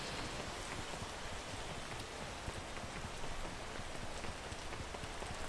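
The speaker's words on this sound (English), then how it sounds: "So the worst thing that could possibly happen at this moment in time is raining." Steady rain falls in the video game PEAK, a dense, even hiss of drops on surfaces that stays constant and fairly loud throughout with no talk over it.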